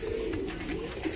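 Pigeons coo inside a coop, a low close throaty cooing that rises and falls continuously against faint background noise, with no talking.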